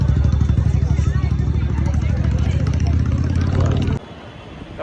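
A motorcycle engine chugs at a low, throbbing idle up close at a mass wedding, its rumble running under crowd chatter before cutting off abruptly.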